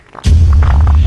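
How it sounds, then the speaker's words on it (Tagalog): A fart sound effect gives one loud, low, buzzing blast that starts abruptly after a brief quiet moment and holds close and sustained to the end. "Umutot ka ba?"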